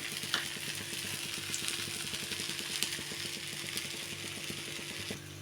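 Oil sizzles steadily under a mint ragi dosa frying on a hot pan, a constant close crackle with a low hum beneath it and no talk.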